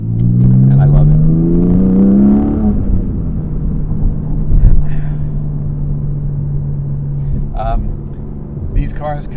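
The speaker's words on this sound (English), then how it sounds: "These cars come equipped in the exhaust, sport exhaust, but they have the GPF, the gas particulate filter, which really kind of muffles it." A 2022 Porsche Cayman GTS 4.0 with sport exhaust and gas particulate filter climbs through a loud, rising rev, then settles into a steady, muffled engine drone heard from inside the car.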